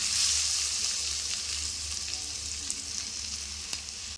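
Curry leaves and grated raw mango sizzle in hot oil in a pan, giving a bright, continuous crackling hiss close up, with a few faint clicks of stirring and no speech.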